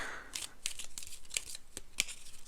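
Soft, rapid papery flicks and slides of cards being shuffled by hand, close and fairly quiet, with a few sharper snaps.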